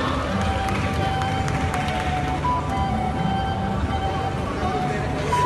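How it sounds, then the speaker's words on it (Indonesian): Audience applause at an Indonesian tourism ambassador pageant, a dense continuous wash of clapping and crowd noise filling the hall for several seconds. "Tepuk tangan kita untuk Provinsi Aceh."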